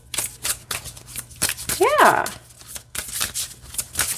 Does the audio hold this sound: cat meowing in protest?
no